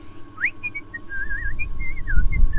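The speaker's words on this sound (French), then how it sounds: "il faut que je sifflote" A person whistles a wavering, melodic tune alone, clear and close, with a low rumbling background building toward the end.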